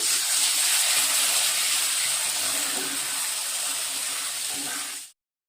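Hot water poured into a sizzling pan of bami fish curry, a strong steady hiss and steam sizzle up close that fades slightly before cutting off abruptly.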